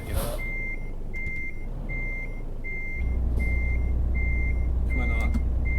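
A truck in Euro Truck Simulator 2 reverses to a steady series of about eight evenly spaced reversing beeps over a low engine rumble that deepens and grows louder partway through.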